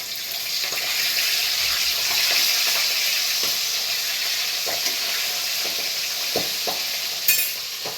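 Fish fries in a pan at home, a continuous loud sizzle with scattered pops and clicks of stirring and a brief clatter near the end, close up and without talk.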